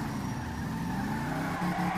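A video-game car reverses at full speed and skids, giving a continuous rough engine drone with tire scrub that holds steady and rises slightly near the end.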